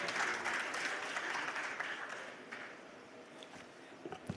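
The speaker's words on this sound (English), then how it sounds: "So big round of applause and welcome to you," Sustained audience applause at a livestock feed industry symposium and AGM, welcoming a speaker on stage; a dense, even wash of clapping that slowly thins toward the end, with faint voices underneath.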